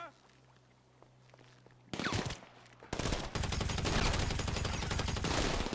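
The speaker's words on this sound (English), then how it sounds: "Now I'm going to have to deal with everybody shooting back at me." A video game shootout at a vehicle warehouse erupts after a quiet stretch into loud bursts of rapid gunfire that continue densely to the end.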